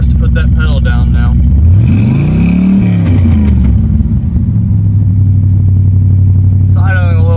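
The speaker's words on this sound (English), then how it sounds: "It's idling a little high still." The engine of a C4 Corvette idles high in an open engine bay, a loud steady low rumble with a brief rev that rises and falls in pitch, while people talk over it at the start and end.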